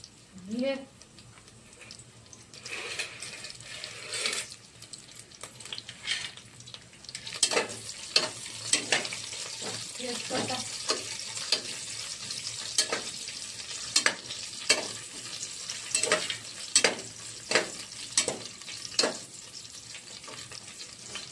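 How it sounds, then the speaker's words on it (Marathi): Green chillies and black peppercorns hitting hot oil in a home kitchen while khichdi is prepared, giving a steady sizzle with repeated sharp crackling bursts and stirring scrapes; a voice talks at the start. "थोडंसं 2 मिनिटाला आपण आता मिरच्या टाकू आणि मिरे पण टाकून देऊ."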